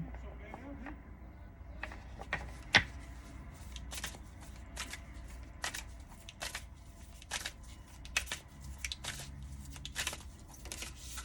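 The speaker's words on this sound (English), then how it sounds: "I just shuffled, and these are the cards that wanted to come out" A deck of tarot cards is shuffled by hand close up, quiet riffling and crisp card snaps in irregular bursts over a low room hum, with no talking.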